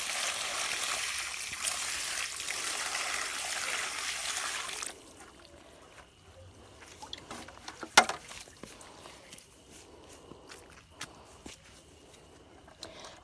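Water trickles and pours onto soil around the roots of a newly planted tree, a steady broadband wash for several seconds that then stops, leaving quieter dribbling, patter and light footsteps nearby.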